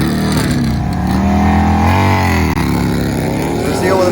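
A Harley-Davidson V-Rod and a Harley XR 1200 launch in a drag race, one loud engine roaring steadily and rising in pitch as it accelerates hard, close and continuous throughout.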